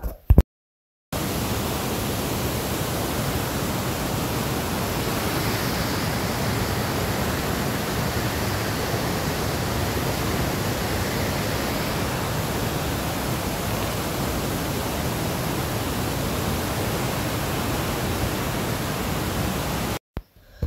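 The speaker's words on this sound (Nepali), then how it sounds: "खोला उर्लिरहेको थियो।" A swollen mountain river in Nepal roaring on the trek to Sotang, a dense, unbroken rush of water that stays loud and steady for the whole stretch.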